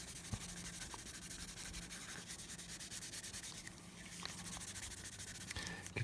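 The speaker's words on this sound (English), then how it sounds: "basically just buffing this in" Graphite being buffed by hand onto a model thruster bell for a Space: 1999 Eagle Transporter, heard as quiet, close, continuous scratchy rubbing strokes in a steady back-and-forth rhythm.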